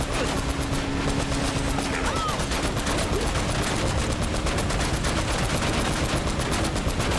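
Constant rapid automatic gunfire fills a rail shooting sequence in Uncharted: Drake's Fortune, with dense unbroken bursts that never let up across the whole stretch.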